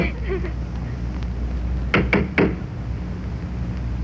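Three quick, firm knocks on a door land close together in a Filipino film scene, standing out against a low steady background hum.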